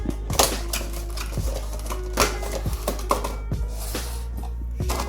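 A figurine is unboxed from its packaging, with a string of sharp plastic crackles, clicks and rustles coming close together and close up in a quiet room, no talking.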